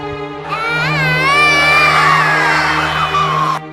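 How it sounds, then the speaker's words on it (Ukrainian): Several small children scream in pain in a film excerpt, with high wavering, overlapping shrieks that are loud and sustained for several seconds over a steady low hum, with no talking. "Це кричать у предсмертній агонії від страшного болю троє маленьких дітей"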